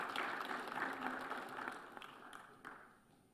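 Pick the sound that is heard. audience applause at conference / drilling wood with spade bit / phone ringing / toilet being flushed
audience applause at conference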